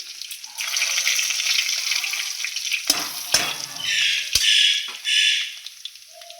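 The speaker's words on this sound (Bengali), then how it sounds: "তেল গরম হয়ে গেছে, একটু জিরে ফোড়ন দিয়ে দেবো।" Cumin seeds hit hot oil and burst into a loud, bright sizzle that swells and fades in waves. A few sharp clanks of a spoon against the pan break through the frying.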